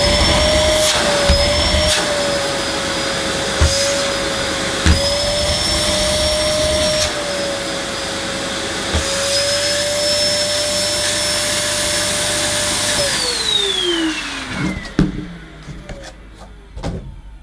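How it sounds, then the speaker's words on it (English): A Moulinex Powerstar cylinder vacuum cleaner with an Italian Amtech 1200-watt motor runs at a loud, steady whine, its pitch dipping slightly as suction changes, then winding down toward the end. "Italian-made Amtech motor sounds pretty good, doesn't it?"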